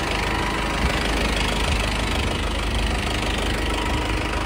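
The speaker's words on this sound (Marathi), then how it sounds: "ट्रॅक्टर" A tractor engine idles nearby with a loud, constant, slightly knocking diesel rumble, even and unbroken with no voices.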